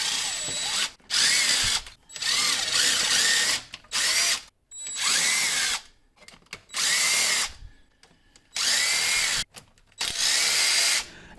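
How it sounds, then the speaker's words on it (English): Power tool spinning out the upper intake bolts on a Pontiac Fiero engine during a fuel system rebuild, loud whirring bursts of about a second each, repeated roughly eight times with short pauses between. "I started by removing the bolts for the upper intake."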